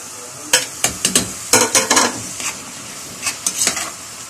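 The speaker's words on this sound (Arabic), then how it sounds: "طبعا احنا نزلنا فيها الشرايح البصل والفلفل اللي احنا عملناها" Onion and pepper slices are stirred in a sizzling pan, with a series of close, sharp utensil scrapes and clacks in irregular bursts over a soft background fry.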